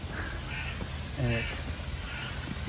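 Crows cawing in Emirgan Grove, one harsh call standing out midway above a steady outdoor hum, fairly distant, while a person speaks briefly nearby.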